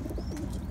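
A pigeon coos once, soft and brief, close by among a loft of homing-type pigeons.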